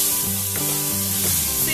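Finely sliced green chilli rounds and ginger sauté in hot oil over a low flame, giving a steady, gentle sizzle throughout with no talking.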